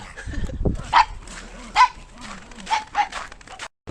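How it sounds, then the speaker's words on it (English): A dog barks several times outdoors in a small town, sharp separate barks spaced about a second apart at moderate distance, with a brief low thump before the first. "Oh, there's the dog."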